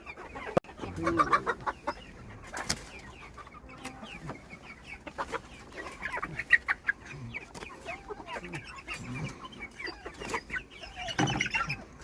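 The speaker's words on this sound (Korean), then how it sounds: "닭들이 지금 이렇게 모여서 다 잠을 자고 있네요" A flock of black Super Ogolgye chickens cluck and murmur softly together in a cramped coop, with scattered brief squawks and rustling, fairly close and quiet.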